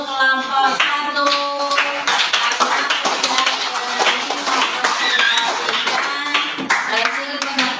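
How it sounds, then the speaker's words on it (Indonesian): Schoolchildren in a classroom clap together for a group of classmates, brisk steady handclaps continuing for several seconds, with a teacher's voice and children's voices heard underneath. "Tepuk tangan untuk kelompok 1."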